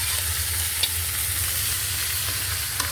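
Chopped garlic, onion and bottle gourd leaves frying in hot oil on a gas stove, heard as a continuous close sizzle with a low hiss and a couple of faint clicks.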